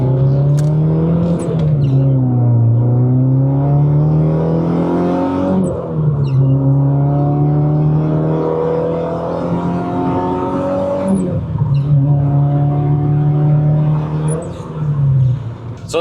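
A 2002 Ford Escort cruising and accelerating, its engine note climbing and falling in repeated smooth rises and drops, loud and steady from inside the car.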